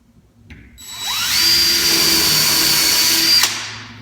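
A power drill drives screws into a wooden fireplace mantel surround, spinning up with a rising whine into one sustained high-pitched run lasting a few seconds, close and loud, with ratcheting mechanical buzz and no talk.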